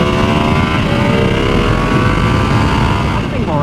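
A Ducati Streetfighter V2 motorcycle engine drones loud and steady at speed on a freeway, with heavy wind rush throughout and a slight rise in pitch toward the end.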